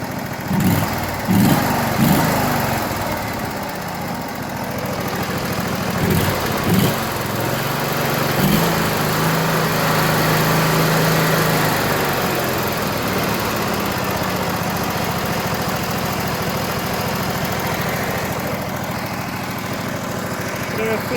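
A small Briggs & Stratton engine with a freshly adjusted carburettor runs steadily and loudly up close, with a rough continuous drone that rises slightly in the middle, punctuated by a few clanks.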